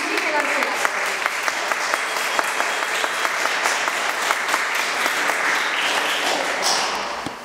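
A Protestant church congregation in Strasbourg applauds during a harvest festival service, with dense, lively clapping and a few sharper individual claps standing out. The applause runs for several seconds before tapering off, with some voices faintly mixed in.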